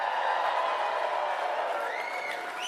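Rally crowd for Pierre Poilievre cheering and clapping in a steady, dense roar, with faint whoops and whistles rising near the end.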